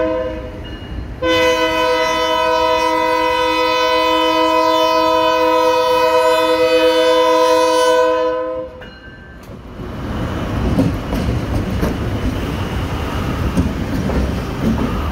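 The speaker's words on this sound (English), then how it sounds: "All right, single locomotive finally came." SJVR locomotive 2406, running alone, sounds a long, loud, steady horn blast as it passes in Fresno. The horn cuts off and leaves a rumbling engine and rolling wheels fading into the distance.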